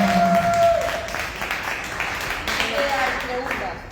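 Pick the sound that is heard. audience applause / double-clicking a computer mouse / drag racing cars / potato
audience applause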